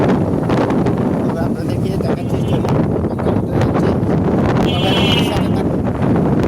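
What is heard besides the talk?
wind blowing outdoors at a farm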